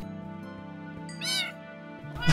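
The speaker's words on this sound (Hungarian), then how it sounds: "Annyi macska." A Minecraft cat gives a single short meow over a steady background music drone, with a brief sound starting just at the end.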